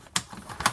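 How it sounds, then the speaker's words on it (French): A paper scrap is cut for scrapbooking, giving two short, crisp cuts a fraction of a second apart, close and moderately quiet. "Je vais couper ici."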